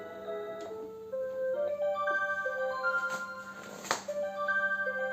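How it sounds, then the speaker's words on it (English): A Seiko QXM378B clock chimes the melody of Amazing Grace in clear, bright electronic tones, one sustained note after another, with a faint steady hum beneath and a brief click partway through. "there goes Amazing Grace on the clock"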